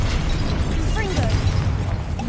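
A Confringo fire spell bursts in Hogwarts Legacy with a short blast and crackle. Game effects and a voice overlap it.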